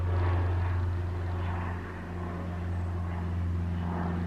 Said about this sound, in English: damn planes.